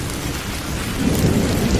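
Heavy rain pours down with a low rumble of thunder in a Bengali horror cartoon. The downpour is dense, loud and continuous, and the rumble swells slightly near the end, with no voices.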